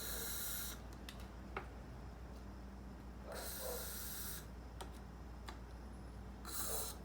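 Short hissing bursts of silicone spray aimed beside cups of acrylic paint for a flip cup pour, three separate sprays with quiet gaps between them.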